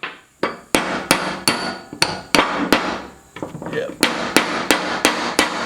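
Rapid metal hammer blows drive a nut out of a welding vise, about a dozen sharp, loud strikes in an uneven rhythm with a brief pause midway and a single short spoken word.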